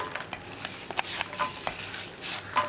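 Pappadam frying in hot coconut oil, with a soft continuous sizzle punctuated by close stirring and scraping clicks from a utensil in the pan, steady and moderately loud with no voices.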